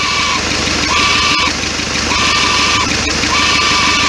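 A car engine with a worn turbo fitted with the wrong shaft and blades idles steadily and loud, with a repeating high whine rising and falling about every second over the low rumble.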